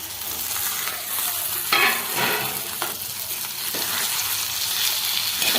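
Chopped onion dropped into a hot pan of roasted masala for a dried bombil fish curry, giving a loud, steady sizzle and frying hiss with occasional stirring scrapes, close up and without talk.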